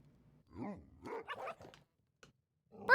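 A dog barks and yips in short bursts at close range, several quick calls spread over a few seconds with a louder sharp bark at the end, with brief quiet gaps between them.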